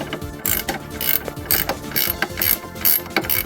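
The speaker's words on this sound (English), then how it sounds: "Look at this dude doing some wrenching." A wrench ratcheting during a car transmission overhaul: a close, loud run of rapid metallic ratchet clicks in repeated strokes, about seven back-and-forth pulls in steady rhythm, with no speech.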